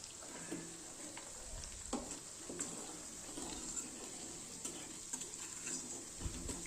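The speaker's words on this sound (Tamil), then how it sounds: "கடைசியில் கொஞ்சம் சிம்லேயே வச்சு நம்ம அந்த சலசலப்பு சவுண்டு நின்றுன்னா ஸ்டவ் ஆஃப் பண்ணிக்கலாங்க" Homemade ghee, rendered from collected milk cream and curd skin, simmers on a low stove flame with a steady, soft crackling sizzle and scattered small pops, fairly quiet and close with no voices.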